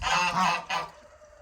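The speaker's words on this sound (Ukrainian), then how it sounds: "Гуси кричать, кричать, кличуть гусака." Domestic farmyard geese honk loudly in a couple of harsh, overlapping calls, close by, then the sound trails off into quiet background.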